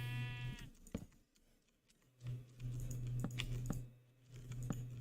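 Minecraft sheep bleat twice: one wavering call at the start and a second longer one in the middle, both fairly close. Sparse clicks of blocks being placed sit between them, with no talking.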